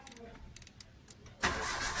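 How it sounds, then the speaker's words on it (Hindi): A Maruti WagonR K-series petrol engine with misfire and vibration trouble cranks and catches, then settles into a steady loud idle, after quiet clicks and faint background sounds. "अभी हमारा इंजन स्टार्ट हो गया है"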